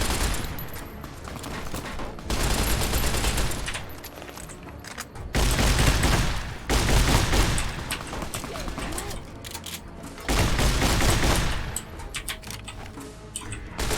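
Gunfire from a 12.7mm gun in the video game Fallout New Vegas comes in long, loud sustained bursts with short pauses between them, while someone talks over the shooting.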